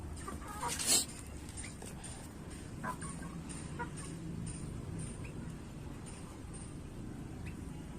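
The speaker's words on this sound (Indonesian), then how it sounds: "Ayamnya bunyi juga." Chickens cluck softly at feeding time outdoors, scattered low clucks over a steady background rumble, with a brief louder rustle or clatter near the start.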